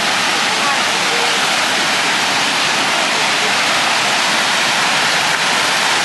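Szklarka waterfall roars as a steady, broad rushing hiss of falling water, loud and continuous without pause.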